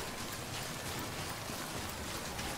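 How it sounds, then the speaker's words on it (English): Heavy rain in Death Stranding hisses as a dense, even wash that stays constant and fairly quiet throughout, with no talking over it. "It's raining pretty heavy."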